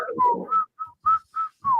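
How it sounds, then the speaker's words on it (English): A person whistles a quick run of short, clear notes, some sliding down in pitch, close by and fairly loud. "What you whistling for?"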